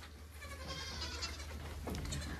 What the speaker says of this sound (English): She's just a wise old goat.